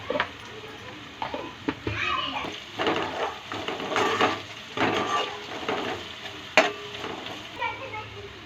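Marinated fish frying in a pan for a Telugu fish curry, a steady oil sizzle with stirring and scraping noises, close by, partly under a voice speaking.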